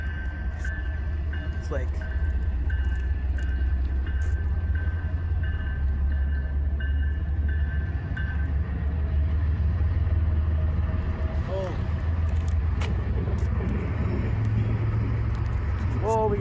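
A passing train rumbles steadily with low, continuous rolling noise and occasional squeals, heard close by outdoors, while someone talks briefly over it.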